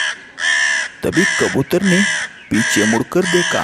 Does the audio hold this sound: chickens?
no